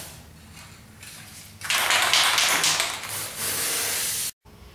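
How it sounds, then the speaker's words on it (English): Black primer-in-one spray paint hisses from an aerosol can onto bike components, a loud close burst that drops briefly, continues steadily, then cuts off abruptly. "So we're just going to spray all the components black"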